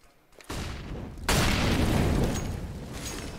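Incendiary grenades burst into a roaring fiery whoosh during a Counter-Strike match on Inferno, a sudden loud onset after a quieter lead-in, sustaining a broad crackling rush that fades gradually.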